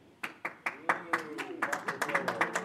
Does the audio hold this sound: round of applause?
yes